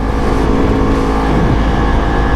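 A Yamaha R1 motorcycle engine roars loudly and up close at high revs, a sustained, dense mechanical howl with no voices.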